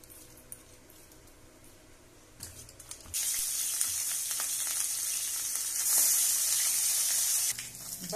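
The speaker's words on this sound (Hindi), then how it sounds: "बड़ा मछली फ्राई कर ली है, छोटा मछली भी फ्राई कर रहे हैं।" Small fish frying in oil in a home kitchen, a quiet sizzle at first that jumps to a loud, steady, hissing crackle partway through and drops back near the end, with no talk.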